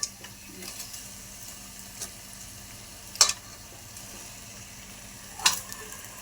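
Boiled pasta being stirred into a frying masala in a pan for cheesy masala macaroni, a soft steady sizzle with a couple of brief scraping clinks of the spoon against the pan.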